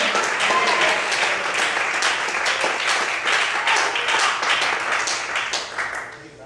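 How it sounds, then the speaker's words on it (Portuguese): A church congregation applauds during a Portuguese-language sermon, with a full, continuous wash of clapping that holds steady and then tapers off at the end. "eu convido você a aplaudir e a glorificar e a exaltar o Senhor"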